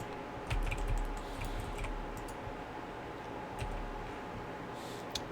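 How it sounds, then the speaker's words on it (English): Close, brisk typing on a computer keyboard mixed with mouse clicks during PC gaming, a continuous clatter of keystrokes over a low background hum. "Are you talking about my keyboard and my mouse?"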